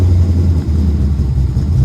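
A 1980 Ford Mustang Cobra with a Holley Sniper fuel injection system fires up, giving a loud, deep, steady engine rumble close by with no voices.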